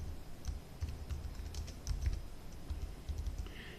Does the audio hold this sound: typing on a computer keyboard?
yes